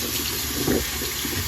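Running water rinsing conditioner from a Monster High doll's hair, a steady close tap flow with a slight splash midway.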